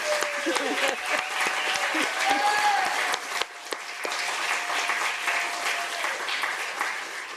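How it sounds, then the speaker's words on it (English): An audience at a church sermon service breaks into sustained applause, many hands clapping for several seconds while a voice speaks over it. "we all owe Meg a huge round of applause"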